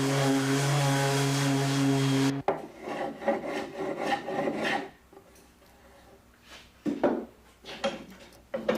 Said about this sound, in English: And once it's all sanded, I set it aside until assembly time.